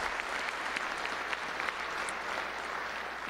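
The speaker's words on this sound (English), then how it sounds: "let's give him a round of applause in case he's watching" A crowd claps for a football player at a high school ceremony, a dense steady burst of applause lasting a few seconds, fairly even in loudness with no voices standing out.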